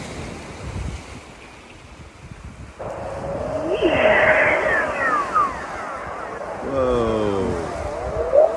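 Underwater recording of seals in polar waters, with eerie descending trills and sweeping whistles over a rushing background, several repeated calls close and clear, and a brief exclaimed voice at the start.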